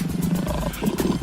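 A lion roars in a circus-themed children's Sunday school performance, a short rumbling roar heard up close and moderately loud, with no talking over it.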